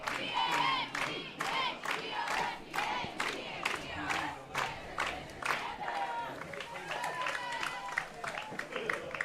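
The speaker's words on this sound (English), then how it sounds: "as we listen into the Pekin cheer squad" The Pekin cheer squad chants and yells at a high school football game, a crowd of voices shouting in rhythmic bursts, moderately distant, with a commentator's voice talking over it.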